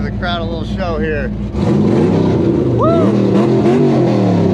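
A dedicated race car fitted with a new exhaust revs loudly on the street, a deep rising roar that climbs and holds after a brief whoop of crowd or voice, the engine dominating close up.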